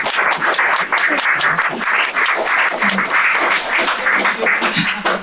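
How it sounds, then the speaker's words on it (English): A room full of people claps loudly and continuously, dense, close applause with a few scattered louder claps. "Can we give another round of applause to everyone?"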